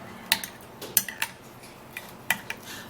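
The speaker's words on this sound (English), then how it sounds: "scooping in about 3 to 4 tablespoons of this yogurt into this mix, and then mix it all up" A spoon clinks and scrapes against a bowl while mixing yogurt into a tomato face-mask mixture, leaving a handful of sharp, close metallic taps spaced irregularly over quiet.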